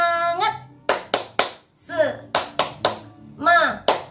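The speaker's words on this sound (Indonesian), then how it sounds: "Ya, tepuk semangat." A group of children doing the rhythmic 'tepuk semangat' clapping routine with a teacher: sharp, patterned hand claps in short bursts alternating with chanted voices, close and clear.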